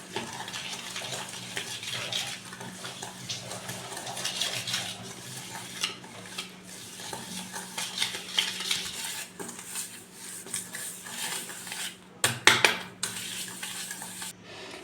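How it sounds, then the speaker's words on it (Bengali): Oil and sugar being stirred together in a bowl for a semolina and mango pulp cake, with a steady scraping, clinking stir of utensil against the bowl throughout and a few sharper knocks near the end. "তেলটাকে আর চিনিটাকে ভালো করে মিশিয়ে নিতে হবে।"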